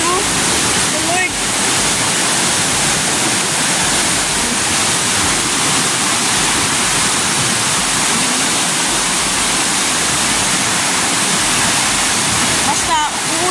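Loud, constant roar of flood water rushing down the Piñan River, a heavy churning torrent with no break, and a voice faintly heard beneath it.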